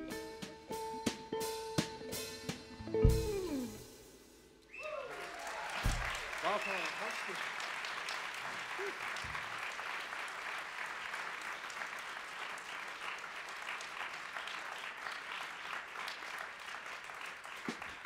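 A university concert audience breaks into sustained applause with cheers and whoops, loud and steady for many seconds after a few earlier scattered claps and a short spoken bit.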